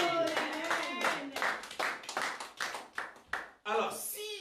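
Church congregation clapping during a sermon, a dense, uneven burst of hand claps that rises and falls in waves over a few seconds, fairly close, with brief voices mixed in.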